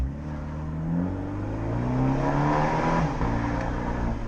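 An Abarth 124 Spider's raspy exhaust revs hard inside a road tunnel, a loud, continuous engine note climbing in pitch and echoing as the car pulls in second gear, with no talking.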